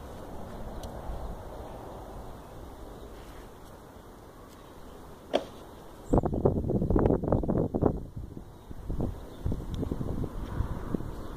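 Wind in an office setting makes a low, steady rumble at first, then louder gusty bursts with rustling about halfway through.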